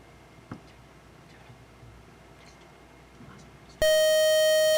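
After a few quiet seconds, a loud sustained electronic quiz-show buzzer tone sounds abruptly and holds until the end, at a high school quiz bowl match.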